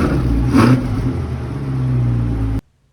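A Chevy Corvette engine revs hard once, then settles into a sustained loud rumbling drone before cutting off abruptly. The car is either the 2023 mid-engine Stingray or the 1984 model.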